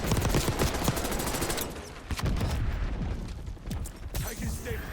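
Rapid automatic gunfire from the Black Ops 6 video game during a battle royale match, loud and sustained bursts of close shots with mechanical clatter, pausing briefly near the end.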